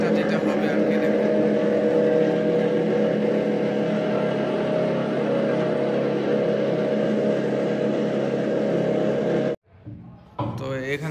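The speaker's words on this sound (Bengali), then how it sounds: "এটা হচ্ছে গিয়ার দিয়ে ঘুরাইতেছে, অনেক সাউন্ড আর কি।" A gear-driven motor machine runs in a lachha semai factory, giving a loud, steady mechanical drone with a grinding edge for several seconds before it cuts off abruptly, leaving fainter sounds behind.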